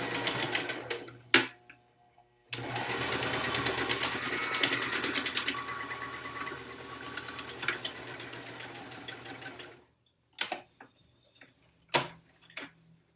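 A sewing machine stitches an N95 mask cover corner to corner: one long, steady run of close, rapid whirring, with a few short separate bursts of stitching before and after, then quiet.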